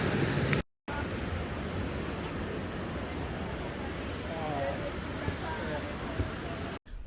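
Ocean surf and breeze along a Rio de Janeiro boardwalk, a broad steady roar of waves mixed with wind buffeting the microphone, cutting out briefly at the start and near the end.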